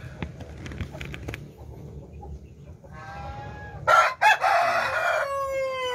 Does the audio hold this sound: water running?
no